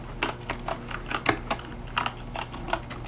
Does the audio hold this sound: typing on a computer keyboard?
yes